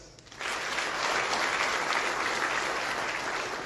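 An audience breaks into sustained applause for the learners, starting after a short quiet moment and staying loud and even to the end.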